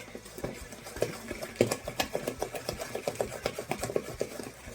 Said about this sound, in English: Mix it all up until it becomes a nice stiff dough